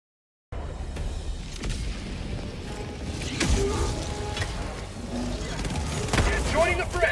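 Gunfire in the co-op shooter video game Helldivers II: clattering bursts and sharp cracks over a constant loud battle din, with voices under the action.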